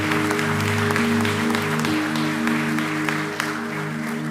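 A church congregation claps loudly and continuously while sustained tones, likely music, hum underneath.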